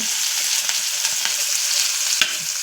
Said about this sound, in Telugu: అదే ఆయిల్లో కొంచెం ఆనియన్, పచ్చిమిర్చి